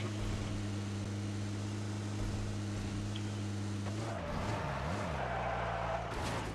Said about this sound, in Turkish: Araba geçti. Araba geçti.